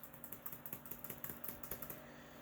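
Rapid typing on a computer keyboard, a steady run of close, crisp key clicks in quick succession, heard alone without any voices.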